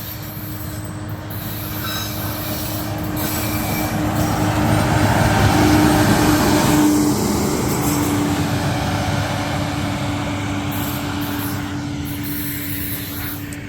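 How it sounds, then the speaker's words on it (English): A rail maintenance machine, a rail tester, rumbles past on the tracks, swelling to a loud peak midway with a sustained metallic squeal, then slowly fading away. "I think it's some sort of rail tester."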